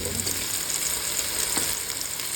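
Ingredients for a homestyle dal fry sauté in a pan with a quiet, steady sizzle and a faint stirring scrape.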